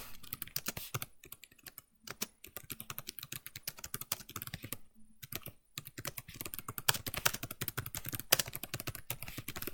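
Someone types a book summary on a computer keyboard, with fast, uneven clusters of crisp key clicks and short pauses, close and clear with no voices.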